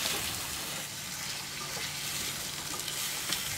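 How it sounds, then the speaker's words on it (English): Abalone frying in duck fat in a pan, a dense and continuous sizzle and crackle heard close up, with no voices. "Now we're frying up some abalone in the duck fat."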